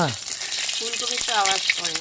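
Cauliflower pieces fry in hot, splattering oil, a constant close sizzle running beneath a person talking.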